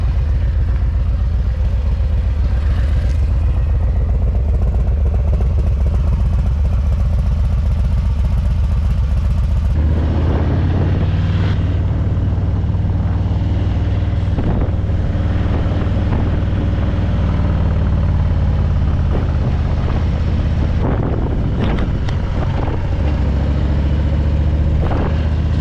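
A 2024 Harley-Davidson Softail Low Rider S fitted with a TAB Performance 2.25-inch exhaust rumbles at idle, then pulls away with a deeper, louder V-twin roar that rises and falls over the ride. No voices are heard.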